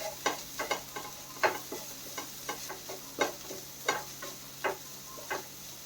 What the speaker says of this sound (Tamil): காலிஃப்ளவர் இதையும் சேர்த்து அப்படியே வதக்கலாம்